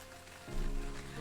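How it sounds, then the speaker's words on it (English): Hail falls in a video game, a continuous loud patter of rain-like hits that grows heavier partway through and holds steady. "the sound is loud and boisterous as hail falls from the heavens"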